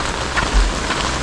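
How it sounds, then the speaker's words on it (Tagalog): Rain pours steadily onto a surface outdoors, with a dense, even patter and a few louder drops, loud and close with no voices. "Ulan,"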